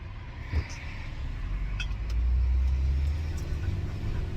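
Steady low road rumble from inside a moving car, swelling louder midway, with a few small clicks and rattles in the cabin.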